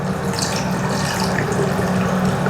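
Water poured from a container into a jar of chopped apples for homemade apple cider vinegar, a steady close splashing trickle running unbroken throughout with no talk.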